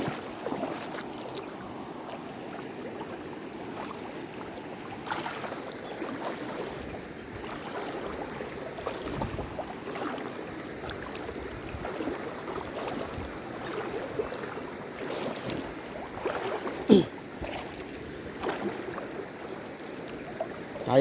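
Flowing river water in the Konkan countryside of Sindhudurg as someone crosses the river: a steady, fairly quiet rush with faint splashing and no talking.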